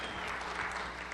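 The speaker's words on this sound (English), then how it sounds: "Round of applause for Microsoft." Audience applause at a SharePoint conference session, a dense steady wash of clapping from a large crowd that fills the whole short moment without a break.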